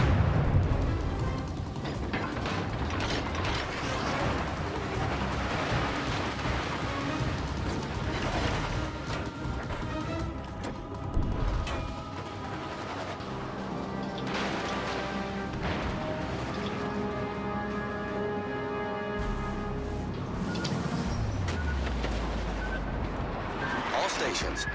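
Heavy naval artillery booms and gunfire roll through a warship battle in World of Warships: Legends, dense, loud and continuous, with crashing impacts layered over game music and radio-style voices.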